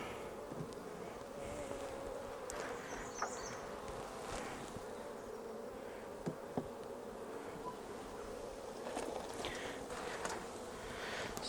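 Honeybees buzz around backyard beehives during a hive inspection three weeks after the colonies were installed, a soft continuous hum of many insects with individual bees passing close now and then and a few faint handling knocks.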